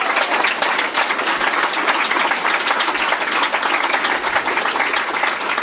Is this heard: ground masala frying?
no